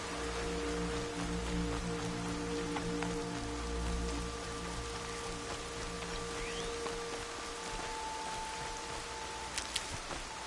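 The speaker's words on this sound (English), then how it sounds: "More rain. My boots will get damp." Steady rain falls outdoors with a dense, even hiss of drops, continuous and fairly close, with a faint low hum underneath and a few sharper drips near the end.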